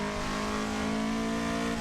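A Toyota AE86 pulls hard out of a corner on the Nordschleife, its engine holding a steady, buzzing drone near the microphone throughout, with no talk over it.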